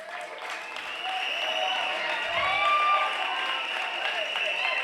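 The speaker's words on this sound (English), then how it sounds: "A round of applause as this begin" An audience at a university presidential debate applauds as treasurer candidates take the stage, a steady wash of clapping that swells after the first second and holds through the clip, with a voice over it.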